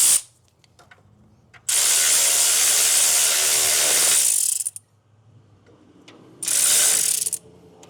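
A ratchet clicking rapidly and loudly up close while loosening the alternator bolt on a 2009–2013 Toyota Corolla 1.8L, two bursts of steady ratcheting separated by a brief pause.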